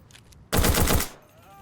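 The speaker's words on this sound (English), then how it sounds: "the AI are just, it's just constant gunfire" Automatic gunfire from AI enemies in a tactical first-person shooter video game, a loud dense burst of rapid shots lasting about half a second that cuts in abruptly and stops, with quiet background around it.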